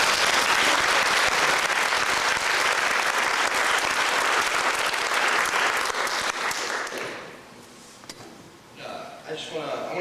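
An audience at a stand-up comedy show applauds comedian Mike with loud, dense clapping that carries for about seven seconds, then thins and fades, leaving a few scattered claps and faint voices.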